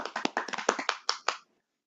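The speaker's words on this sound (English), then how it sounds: "Let's clap it up for credit, edit, or dead it." A handful of people clapping briefly at close range in a small room, a quick burst of overlapping claps that stops abruptly after about a second and a half.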